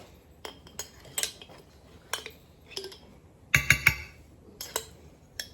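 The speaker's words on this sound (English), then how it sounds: "get a spoon and scrape it all in" A spoon scrapes and clinks against a dish, pushing pasta bake mixture in, in several short separate bursts with a cluster of metallic clinks near the middle and quiet pauses between.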